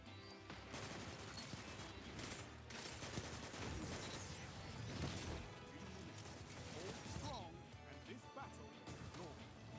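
Rapid auto rifle gunfire from a first-person shooter video game, sustained loud bursts with impacts and crashes filling the whole stretch, under talk.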